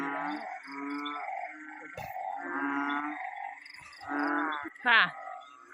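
A dense chorus of frogs croaks continuously from flooded fields at night, with rhythmic overlapping calls filling the scene and someone briefly speaking over them.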